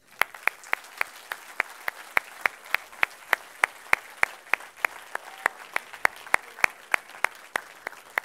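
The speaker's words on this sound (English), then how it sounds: "And yes, another applause for all of them," A small audience at the IYPT 2024 final in Hungary claps for local helpers, a sparse, evenly spaced patter of hand claps, fairly close and moderately loud.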